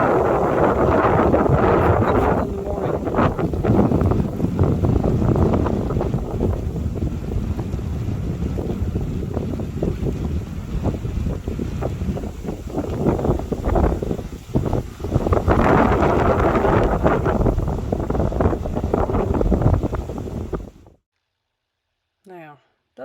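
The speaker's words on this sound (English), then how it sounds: "very, very windy." Strong wind buffets the microphone in loud, rough gusts for about twenty seconds on an outdoor walk, a brief voice speaks partway through, and the sound cuts out abruptly near the end.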